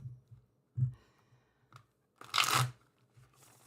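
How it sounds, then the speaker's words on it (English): Osho Zen tarot cards being shuffled by hand, giving a few soft, close riffling and crunching bursts separated by quiet gaps, the longest one near the end. "I'm just shuffling up my Osho Zen."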